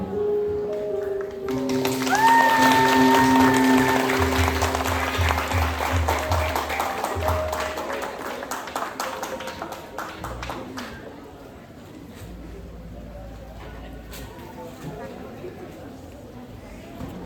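Audience clapping after a school opera performance of "Tjoet Nja' Dhien" by a twelfth-grade class, a steady patter of many hands mixed with music at first, then thinning out while a voice speaks over it.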